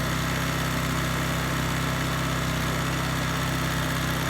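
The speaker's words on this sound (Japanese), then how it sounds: "アイドルアジャストスクリューでエンジン回転が一番高くなるよって調整。" A Subaru SG550 portable generator engine idles while its carburetor idle adjustment screw is tuned, giving a steady, close, unbroken hum with no voices.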